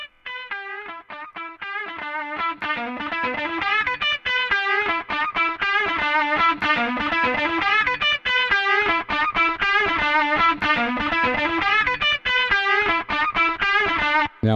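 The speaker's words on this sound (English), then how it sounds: "Got some reverb." Guitar played through the RackAFX7 plugin with reverb and mild distortion, a sustained stream of ringing notes at steady moderate level for the whole stretch, with no voices.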